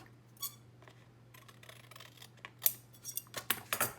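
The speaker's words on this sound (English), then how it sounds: "I can just take my scissors and trim that extra off" Scissors snip through paper in a run of quick, crisp cuts that bunch together toward the end, close and fairly quiet over a low electrical hum.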